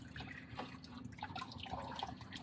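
Oil drips and trickles from a 2022 Cadillac CT4-V Blackwing during its first oil change, with soft, irregular liquid patters close by over a low steady background hum.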